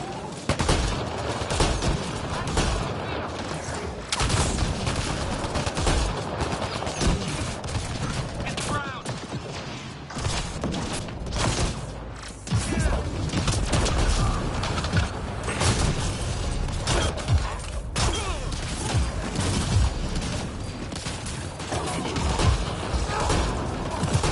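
Heavy sustained gunfire in the sci-fi shooter Mass Effect Andromeda, dense rapid bursts and booming impacts crackling without pause over a combat soundtrack, with shouted voices mixed in.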